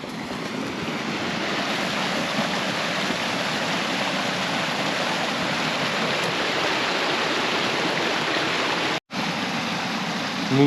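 A creek that runs only in spring flows steadily and close by, a broad continuous rush of water with no talk, briefly cutting out near the end.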